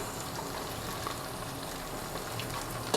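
Diced potatoes and capsicum frying in a pan for a dal chawal khichdi, giving a steady, even sizzle throughout with no talking and a small clink near the end.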